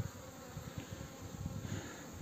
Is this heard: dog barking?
no